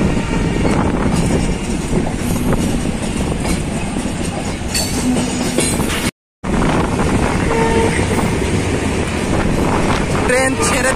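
A passenger train, the Madhumati Express, rumbles loudly and continuously as it pulls out of Kamalapur station in the afternoon, with wind buffeting the microphone and a brief dropout midway.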